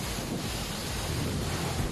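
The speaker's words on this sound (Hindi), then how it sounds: "चट्टानों से उतरती पानी की धारा के कोलाहल से गूंजा इलाका" Dassam Falls in Khunti, near Ranchi, after heavy rain: a steady, loud, dense roar of rushing water fills the air without a break, with wind buffeting the microphone.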